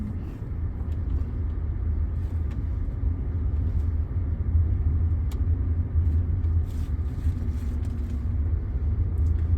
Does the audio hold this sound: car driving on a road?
yes